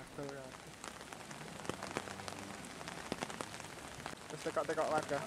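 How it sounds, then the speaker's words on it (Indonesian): Rain driven by strong wind patters and hisses steadily on surfaces, growing a little louder toward the end, while people talk over it. "angin kencang disertai hujan masih terus terjadi"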